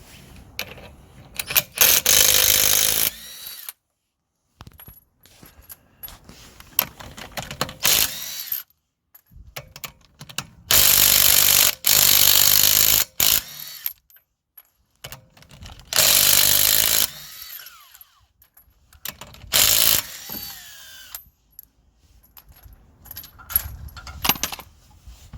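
Power tools and ratcheting sockets work on a Toyota Prius wheel while the tire is removed for an anti-roll bar drop link job, with loud bursts of a few seconds each separated by quiet gaps and clinks.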